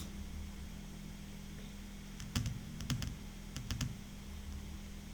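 A few clusters of computer keyboard keystrokes, sparse and fairly quiet against a steady low hum, as a value is entered into a spreadsheet cell.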